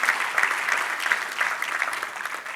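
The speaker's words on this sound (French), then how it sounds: "est-ce qu'on peut donner une main d'acclamation" A burst of enthusiastic clapping from an audience, thick and continuous, staying loud and even throughout.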